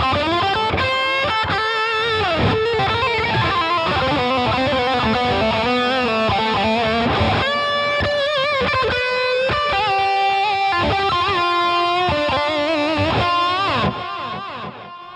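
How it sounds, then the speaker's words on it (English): Electric guitar lead tone through a Marshall-style amp circuit with reverb and delay, played as a fast, distorted melodic line with sustained notes and echoing tails, loud and alone. "we're gonna have sort of a lead tone happening. This is another sort of Marshall circuit. This one has some reverb and delay happening in there."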